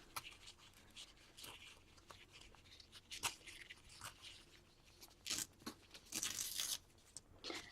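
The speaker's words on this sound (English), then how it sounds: "And then let's tear some of the sides." Paper being torn along the edges of a cut-out heart for a mixed-media collage, a run of small, close rips and crinkles, quiet overall, with a few louder, longer tears near the end.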